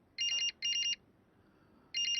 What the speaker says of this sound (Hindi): घर से ही फोन है।